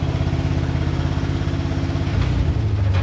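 The engine of a 1962 Ford C750 cabover truck runs steadily at about 2,000 RPM in low gear, a close, even, rumbling drone with a slight clatter and a small swell in level near the end.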